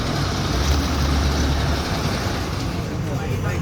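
An MSRTC state transport bus pulls out of Lonand depot in light rain, its engine giving a steady, low rumble close by beneath general road and cabin noise.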